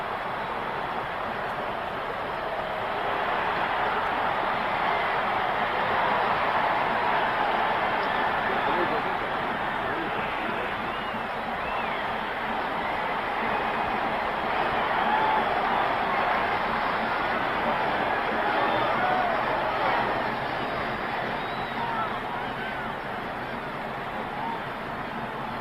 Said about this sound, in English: listen to that Tennessee crowd